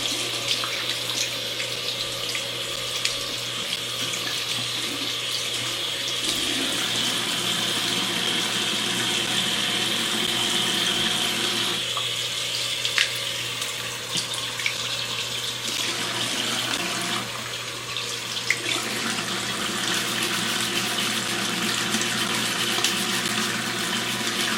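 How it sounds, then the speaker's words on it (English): Tap water runs steadily and loudly from a faucet to wet a shoe-cleaning brush before scrubbing Nike Vomero sneakers with Jason Markk cleaner, a continuous splashing stream with no talking. "I'm about to wet the brush and get ready to start scrubbing."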